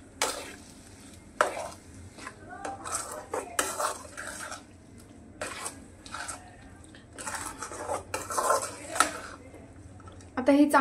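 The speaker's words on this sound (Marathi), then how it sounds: "आता हे एका झाऱ्याच्या साहाय्याने चांगलं फोडून घ्यायचं आहे" A metal slotted spoon scrapes and clatters in a pan as egg bhurji is broken up and stirred, giving irregular bursts of clinking and scraping under a soft sizzle, with a voice faintly present at times.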